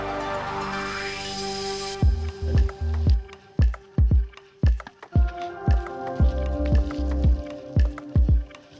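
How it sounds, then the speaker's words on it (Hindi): Yogurt going into chicken in a clay pot for village-style matka biryani: soft, close squishing plops and dull thuds in an irregular series, following a brief stretch of steady background noise. "इसके बाद दही को डालेंगे।"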